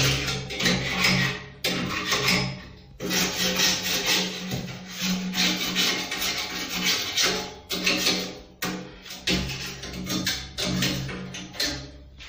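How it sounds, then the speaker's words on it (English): Scraping cement off a surface with an old panga gives continuous rough, rasping strokes, loud and close, with short pauses between bursts and no talking. "There's a lot of cement up here, so we have to scrap it with this old panga here."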